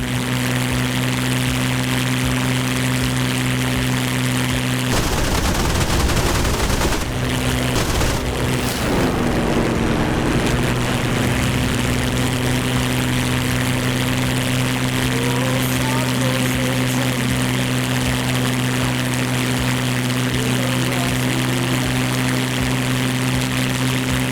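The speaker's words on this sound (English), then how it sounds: "our Spitfires are getting ready to light this guy up" Spitfire aircraft engines in a video game, a loud steady propeller drone throughout with a burst of rattling machine-gun fire partway in, and a voice speaking over it at times.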